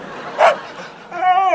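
A dog gives a single short, sharp bark, followed shortly by a person speaking nearby.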